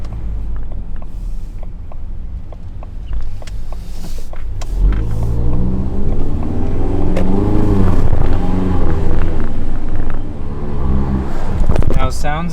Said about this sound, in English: this is still in fact the 4-cylinder EcoBoost, not the V8